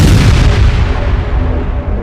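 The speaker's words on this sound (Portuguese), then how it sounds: "uma falha técnica no equipamento causou uma tremenda explosão do tanque" A molasses storage tank explodes after a technical equipment failure, a loud deep boom that rolls on as a sustained rumbling roar and slowly fades, with no voices.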